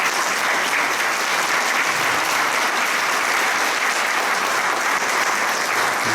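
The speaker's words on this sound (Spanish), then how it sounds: "Fuerte aplauso para él." Strong, dense applause from a conference audience for speaker Mariano Federici at a CUCICBA event, loud and continuous like a wash of many hands clapping without pause.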